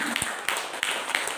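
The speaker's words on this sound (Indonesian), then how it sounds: "Berikan tepuk tangan kepada Bu Sandra." A room of teachers at a training session applauds a speaker, a short burst of scattered, fairly close hand claps over a murmur of voices.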